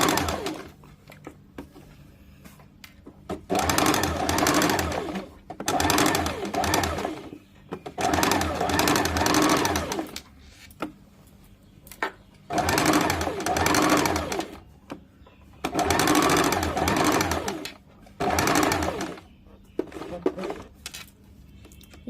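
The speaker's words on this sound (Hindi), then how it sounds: "अब हम लोग फिटिंग दाग पे सिलाई कर लेंगे।" A sewing machine stitches a shirt along the fitting mark in repeated bursts of rapid whirring, several seconds each, separated by short pauses, with a low steady hum underneath and pigeons cooing faintly in the background.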